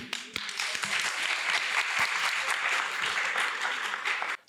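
Steady audience applause at a panel discussion on Armenia's shift from a parliamentary to a presidential system, a dense wash of clapping from a room of people lasting about four seconds, then stopping abruptly.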